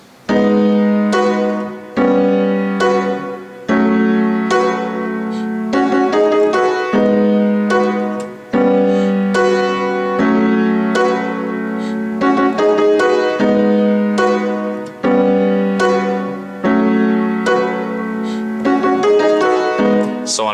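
Solo piano plays a horn line in the right hand over repeating left-hand chords. The phrases come in steady, evenly spaced chordal strokes over about twenty seconds, close and clear, with no talking.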